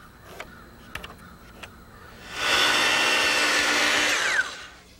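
A power saw cuts a wooden board at an angle for a gazebo roof, a loud sustained whine for about two seconds that stops abruptly, after a few light knocks of handling.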